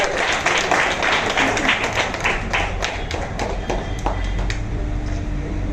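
Audience applause at a children's arts festival prize giving, a dense, steady clapping from a crowd that carries on loudly throughout, with scattered sharper claps standing out and a voice briefly heard beneath it.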